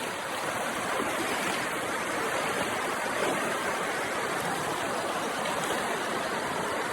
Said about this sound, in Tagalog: Yung ilog guys.